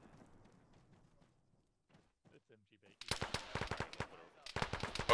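Rapid automatic gunfire from enemy contacts to the north crackles in a military shooter game, loud bursts of dense shots after a quieter stretch with faint voices and footsteps.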